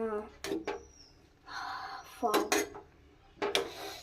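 A utensil scrapes and clinks against a pan as Maggi noodles are stirred while cooking, several short metallic knocks and scrapes nearby, with someone talking in between.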